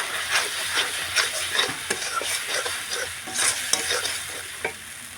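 Thick masala for dhoka, a lentil cake made with young jackfruit and chana dal, sizzles and hisses in a frying pan while a spoon stirs it with repeated scraping strokes, close and steady, with no voices.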